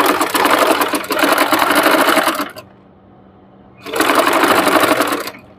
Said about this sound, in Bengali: এই সেলাইয়ের উপর একটা সেলাই দিয়ে নিব